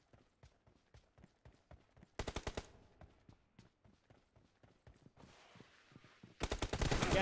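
Gunfire from the PUBG battle royale video game: two loud bursts of rapid automatic shots, one short and one longer at the end, with faint quick footsteps and light clicks in between.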